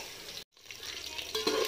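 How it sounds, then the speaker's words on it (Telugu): Green chillies and onions are stirred in a hot pan for mixed vegetable sambar, giving a steady close sizzle that cuts out briefly and then returns with a louder scrape. "పచ్చిమిర్చి, ఆనియన్స్ వేసుకొని బాగా కలుపుకోవాలి."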